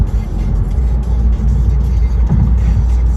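A Tesla steering itself on an Arizona road gives a constant, loud cabin drone of tire and road noise with a low engine-like hum, steady throughout and with no voices.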